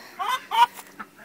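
A hen clucks in a few short, close bursts, two louder calls followed by a softer one, alone without talk.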